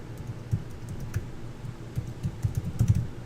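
Rapid bursts of typing on a computer keyboard as a web address is entered, uneven clusters of close, light key clicks with short pauses between.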